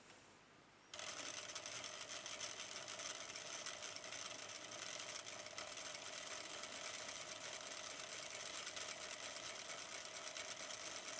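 An industrial sewing machine stitches fabric with a loud, steady, fast buzzing hum. The hum starts abruptly after a brief quiet moment and carries on unbroken to the end.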